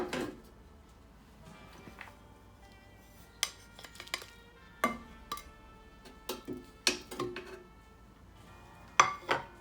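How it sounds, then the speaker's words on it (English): Plastic or nylon tongs handle food in the non-stick baskets of a Ninja Foodi, giving a scattering of light clicks and taps that pick up after a quiet start and come irregularly, close by, with no talking. "I'm using plastic or nylon tongs so that I don't scratch the non-stick surface"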